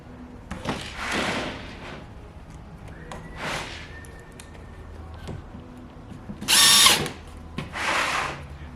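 A power drill drives washer screws through pre-drilled holes in the bottom flanges of overhead mouldings, several short whirring bursts spaced apart, close and moderately loud, with one sharper high-pitched burst near the end.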